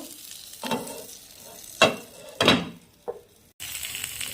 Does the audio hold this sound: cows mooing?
no